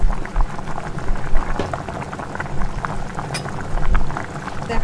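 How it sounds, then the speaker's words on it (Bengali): Bengali hilsa malaikari curry bubbles in an open pan, a dense close simmer of popping and gurgling, moderately loud and continuous, with no talk. "এবার এটাকে একটু ফুটতে দিল"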